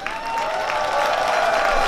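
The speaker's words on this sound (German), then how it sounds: "Applaus bitte." Steady, dense applause from a carnival audience at a Prinzengarde bivouac event of the Rheinische Garde Blau-Weiss, holding loud and even throughout with a faint crowd murmur beneath.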